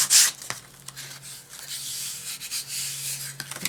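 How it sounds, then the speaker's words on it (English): Light hand sanding of a painted woodcut: soft, close, intermittent rubbing strokes of abrasive over wood, with a brief louder scrape at the start and quiet pauses between passes. "It's just a light, very light sanding."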